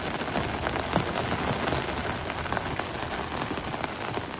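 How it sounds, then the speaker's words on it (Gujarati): Heavy rain pours down steadily over a village with flooded fields, a dense, even hiss of drops drumming on surfaces that fills the whole stretch without a pause, close and loud, with no voices. "તો આવો બતાવી ગામમાં વરસાદ કેવો છે"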